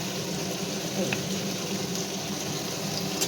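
Lentils (dal) tipped into hot oil in a home kitchen pan, with bay leaf, give off a steady, close, hissing sizzle with faint crackles throughout.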